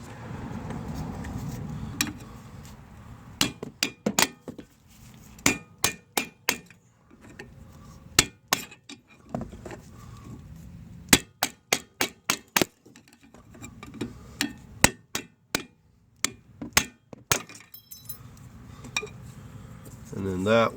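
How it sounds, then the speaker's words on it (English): Hammer strikes on a screwdriver knock at a stuck clip while replacing the passenger-side CV axle on a 2008-2013 Nissan Rogue: sharp metallic taps come in quick bursts and irregular clusters, close and loud, over a quiet garage background. "for this clip we're going to use the hammer and our screwdriver"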